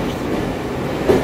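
Moscow metro train 81-765 pulling into a station, a loud close rolling rumble of wheels on rails with rhythmic clatter and a brief metallic squeal near the end.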